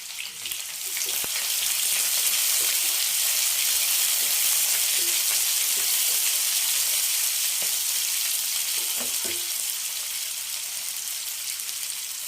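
Two onions sizzle in hot oil in a pan while a cauliflower fry is cooked, a loud, even, close hiss running throughout with a few faint clinks and no voices.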